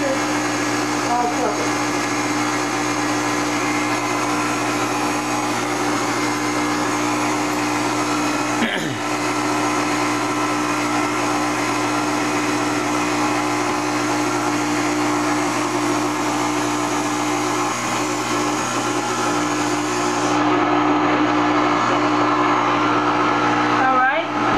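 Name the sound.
blender running on stir setting mixing Jell-O Oreo cupcake mix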